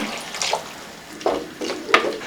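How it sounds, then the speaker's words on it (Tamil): A tumbler of water splashes into a pan of potato kurma in a few short bursts over a soft background, the pours sounding close and uneven. "பெரிய டம்ளர்ல ஒரு டம்ளர் தண்ணி சேர்த்துக்கலாங்க"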